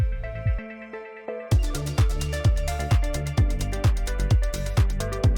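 Electronic dance music with a filtered, muffled opening that opens up into a full mix, thumping kick drums and bright hi-hats driving a steady beat.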